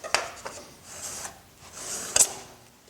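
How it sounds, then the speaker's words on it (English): A Rockler cabinet scraper burnisher rubs along a steel cabinet scraper's edge in a quiet workshop, giving soft scraping strokes with two short, sharper rasps near the start and end. "The Rockler cabinet scraper burnisher, handy tool"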